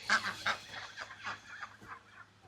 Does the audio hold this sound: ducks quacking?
yes